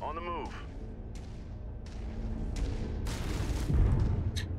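Weapon impacts explode in the mech combat game Mechwarrior 5, a series of sharp bursts and a heavier rumbling blast near the end, mixed with game noise and some talking.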